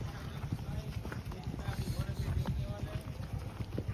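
A Kathiyawadi mare is led out at night, her hooves giving a quiet, steady clip-clop rhythm on the ground while people talk over it.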